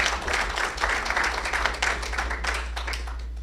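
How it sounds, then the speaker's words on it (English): Audience applause at a NASIG 2023 conference session, a steady wash of many hands clapping at moderate level with a low hum underneath, no voices over it. "Let's give them all a big round of applause."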